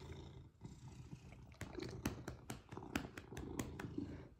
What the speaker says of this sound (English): Look at that big purr kitty.